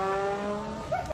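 Volkswagen Golf GTI with a 110-horsepower engine roaring loudly and steadily, its tone rising briefly near the end with a short squeal-like sweep before cutting off.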